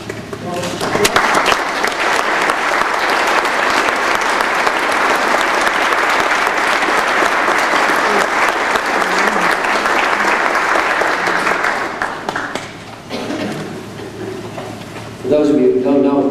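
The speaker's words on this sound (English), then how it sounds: "we all should give him applause for the wonderful job he's" An audience at a grand opening event breaks into loud, sustained applause that fills the room for about twelve seconds, then fades as talking resumes.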